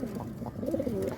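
Pigeons cooing softly at a loft in Imbaba, several low murmuring coos overlapping in a steady stream, close by with no talk.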